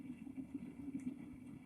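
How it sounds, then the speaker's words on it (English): Engine idling at a very low speed, giving a faint, low, steady throb with a soft, uneven pulse, heard alone with no talk. "Now, my engine is running at a very low speed."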